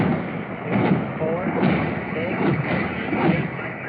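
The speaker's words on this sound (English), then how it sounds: "Let's hear how many explosions we hear." Repeated dull booms and thuds of distant explosions from dropped bombs and rockets, several in a row, rumbling under steady engine-like noise.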